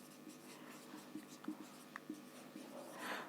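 Pen or marker writing a chemistry term on a board during a lesson, giving a faint series of short scratchy strokes at close range over quiet room noise.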